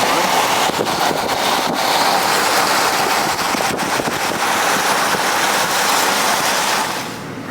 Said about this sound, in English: It might be a bit noisy with the wind